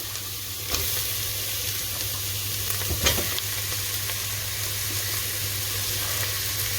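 Capsicums hit a pot of vegetables already sautéing on medium heat for a one-pot pasta, making a constant close sizzle broken by a few scraping stirs and clatters.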